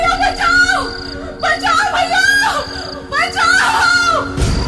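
A voice cries out in repeated high, wailing screams, close and loud, in several bursts across the clip.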